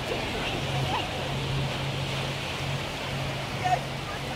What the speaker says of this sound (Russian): Сейчас волна, Ярослав.